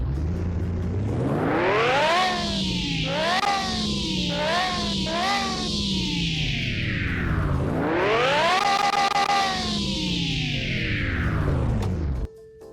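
An Audi R8-based V10 engine in the video game Car Mechanic Simulator 2021 revs loudly in repeated climbing and falling sweeps, with several quick blips between two long rises, then cuts off abruptly at the end.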